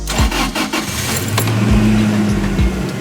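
A stolen truck's engine cranks and catches, settling into a steady idle with a couple of brief revs, loud and close, with keys jangling at the start.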